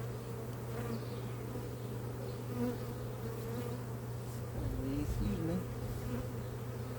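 A dense, steady buzz of many honey bees at an opened hive fills the air up close, with a brief quiet spoken phrase over the droning swarm.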